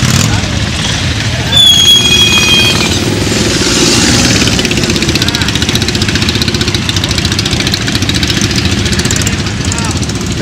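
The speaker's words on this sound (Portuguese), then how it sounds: "Ó quanta moto, ó quanta moto!" Many motorcycle engines rumble and idle together in a steady mass during a motorcycle rally in São Paulo, with excited voices shouting over the noise.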